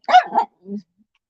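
A dog gives one sharp double bark followed by a brief low grumble, close by with silence after.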